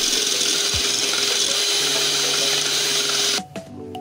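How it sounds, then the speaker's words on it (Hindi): An electric beater runs in a loud steady whine as it whips eggs into a froth for a chocolate coffee cake, then cuts off abruptly near the end. "इसको हम तब तक ग्राइंड करेंगे जब तक इसकी अच्छी सी झाग बन जाती है।"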